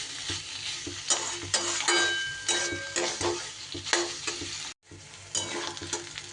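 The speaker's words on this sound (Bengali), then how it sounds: "মিনিট দুয়েক এইভাবে খুব সুন্দর করে আমি ভাজা ভাজা করে নিয়েছি।" Mashed teasel gourd (kakrol) fries in a pan with a continuous crackling sizzle and repeated scraping stirs, close and fairly loud, with one brief break near the end.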